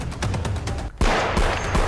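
Explosive blasts set off with illegal gunpowder to break stone during illegal hill mining: a rapid series of sharp, loud, close bangs, one following another, with a heavier burst midway.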